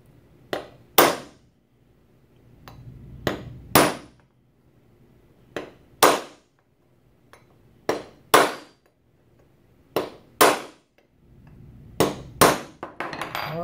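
Sharp metallic hammer blows strike a drill point gauge in spaced pairs, about a dozen hits ringing out clearly with short pauses between, near and loud.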